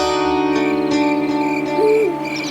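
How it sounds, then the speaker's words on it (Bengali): Birds call at morning in a cartoon, a tonal hooting call over sustained musical tones, with one short rising and falling glide near the end. "পাখির ডাক শোনা গেল।"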